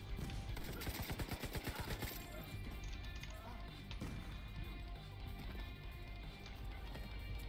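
Enemy gunfire in The Division 2, rapid bursts of shots clustered near the start, then scattered cracks and clatter at lower level through the rest, with brief voice sounds mixed in.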